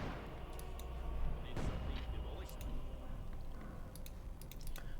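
An artillery bombardment in Company of Heroes 2 thuds and crackles through the battle soundscape, with one heavy close impact near the middle among scattered sharp distant hits, under a commentator's voice.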